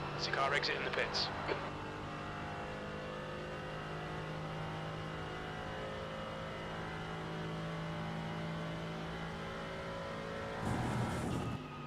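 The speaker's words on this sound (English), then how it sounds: "There's a car exiting the pits." A GT4 race car in the iRacing sim leaves the pits at IMSA with a steady engine drone throughout, joined by brief louder revving bursts at the start and near the end.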